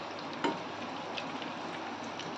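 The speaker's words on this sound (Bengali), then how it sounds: "এরকম লাল লাল করে ভেজে নিতে হবে এগুলোকে" Stuffed bitter gourd (karela) shallow-frying in oil until reddish, giving a steady, even sizzle throughout with a small clatter near the start and no talking.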